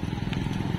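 A motorcycle engine rumbles steadily on a road in South Bay, a continuous low throaty drone with crackly texture, fairly loud and close amid street background noise.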